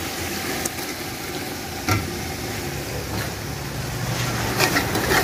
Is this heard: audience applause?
no